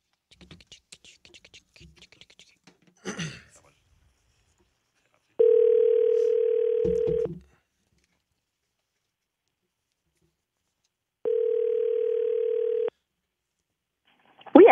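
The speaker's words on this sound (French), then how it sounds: "Luc compose." Telephone dialing a number on a call line: two long steady dial-tone bursts, each about two seconds, with a short clatter of handling noise and brief room sounds between them.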